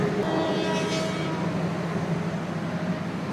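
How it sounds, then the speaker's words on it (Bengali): A passenger train pulling out of Narail station makes a continuous low rumble with a steady mechanical drone throughout, and no voices can be heard. "আমাদের ট্রেন আবার নড়াইল থেকে ছেড়ে দিচ্ছে আবার নড়াইল"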